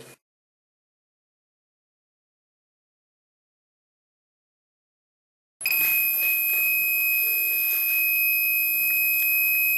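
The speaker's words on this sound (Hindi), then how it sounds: "इसको गर्म करने पर इस स्मॉल बजर में से आवाज आई" A small buzzer in a homemade heat-triggered fire alarm circuit sounds a steady, high electronic tone with a faint hum. It starts abruptly partway through after near silence and holds continuously to the end.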